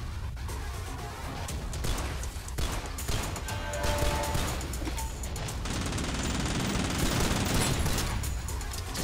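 Pistol gunfire in the shooter game Synthetik, dense rapid shots crackling continuously over a busy, loud game soundscape throughout.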